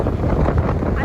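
A strong wind gust buffets a sailboat under sail in a channel, loud broadband roaring and blustering straight across the microphone with no break.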